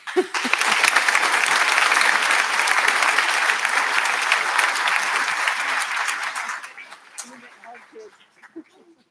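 An audience at a high school senior awards ceremony applauds loudly and steadily for several seconds, then the clapping thins out and fades as scattered voices come through.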